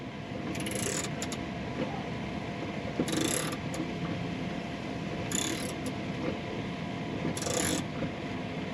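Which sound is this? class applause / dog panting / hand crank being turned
hand crank being turned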